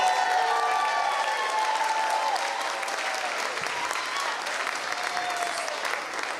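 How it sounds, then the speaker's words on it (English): Crowd applause at an election night gathering for Gloria Johnson, a full sustained burst of clapping from a sizable audience, steady and fairly close, with faint lingering tones underneath. "Let's give Gloria Johnson another round of applause."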